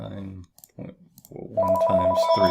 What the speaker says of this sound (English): And I apologize, that's my home phone.